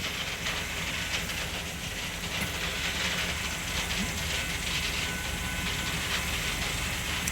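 A passenger train rolls past with a continuous rattling, clattering rumble of wheels on track, steady and moderately distant, with no voices.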